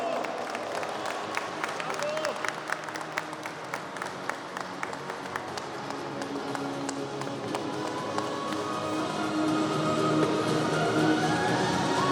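Crowd applause at the closing award ceremony of a youth football tournament, steady clapping of moderate loudness that swells toward the end, with scattered sharp claps and a presenter talking over it.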